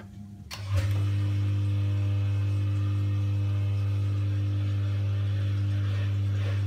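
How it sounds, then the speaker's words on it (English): Miele G 560 dishwasher pump starting as water fills, a brief clunk and then a steady, loud low hum that stays constant to the end. "the pump starts up straight away as the water's coming in"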